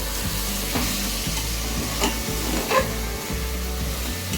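Chicken khichuri ingredients with bay leaf sizzle in ghee while being stirred in a pot, producing a steady frying hiss with rhythmic scraping strokes and a couple of louder scrapes, close up with no one speaking.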